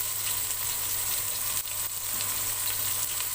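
Spices (turmeric, salt, ground red chilli) sizzle steadily in a hot pan while being fried for Pakistani aloo gosht, a continuous close hiss with light stirring and no talk.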